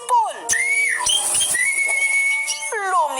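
A person whistles to call tame house sparrows: clear, close whistled notes that slide up and down and hold steady tones, carrying continuously for about three seconds.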